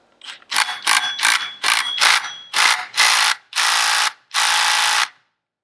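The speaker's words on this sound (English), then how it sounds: "put the rattle gun on here." A rattle gun with an in-hex driver working at an IAME X30 kart clutch on a crankshaft: a series of close, loud ratcheting bursts, short and choppy at first, then a few longer sustained hammering runs.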